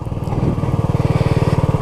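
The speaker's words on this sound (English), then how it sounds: "this is the old off-road engine braking technique. Let the engine do the work" Honda CB250RS motorcycle single engine braking on an off-road green lane, a loud close rhythmic throbbing pulse, steady and even, with no talking.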